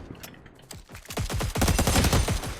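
Rapid automatic gunfire from the video game Cyber Hunter, a loud dense burst of shots building in intensity and continuing without pause, with no talking.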